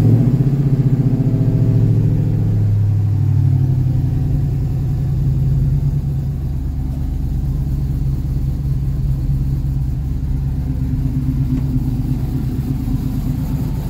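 A 1972 Chevrolet C10 short-bed pickup with a 5.3 LS V8 and a mild cam rumbles loudly at close range, settling from an initial higher note into a steady, slightly choppy idle.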